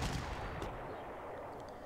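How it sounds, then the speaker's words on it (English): Artillery fires in the World War II strategy game Panzer Corps: a heavy booming blast at the start that rolls away into a long fading rumble, with a fainter second thud soon after. "I'm gonna relocate this artillery to start hitting these guys pretty hard"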